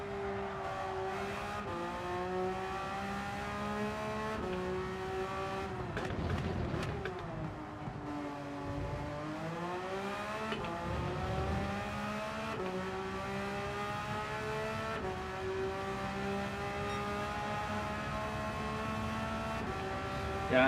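An older Porsche race car in the Gran Turismo 7 racing game holds a loud, steady engine whine that rises and falls through gear changes, with a dip while braking, alone without talk.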